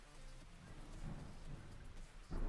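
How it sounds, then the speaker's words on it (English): Steady rain hissing in a Flowscape game thunderstorm scene, with low rumbling swells of thunder rising and falling, a stronger rumble building near the end. "This is kind of a thunderstorm thing"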